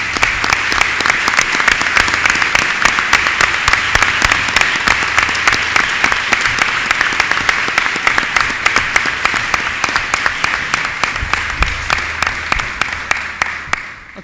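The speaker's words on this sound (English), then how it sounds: "let's give them a round of applause" A crowd at a Long Island coastal resiliency announcement applauds Assembly members and Senators with loud, sustained, dense clapping that fades out at the end.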